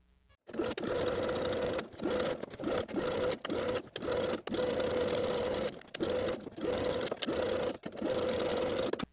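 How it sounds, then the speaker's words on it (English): A sewing machine stitches a seam allowance to an interfaced waistband in several fast, steady bursts of close, rhythmic whirring, separated by short pauses. "We're going to sew this seam allowance to the interfaced waistband from one side straight across to the other, using about 1/8 of an inch seam allowance."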